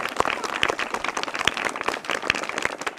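Claps from an audience at a Buddhist vihar gathering, a scattered crowd with distinct sharp hand strikes standing out irregularly, moderately loud and continuous for a few seconds with no talk.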